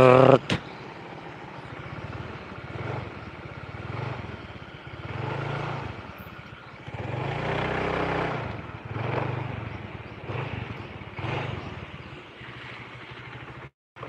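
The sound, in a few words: Honda Vario 110 scooter engine rumbling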